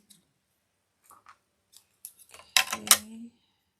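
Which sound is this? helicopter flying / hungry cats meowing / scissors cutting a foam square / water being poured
scissors cutting a foam square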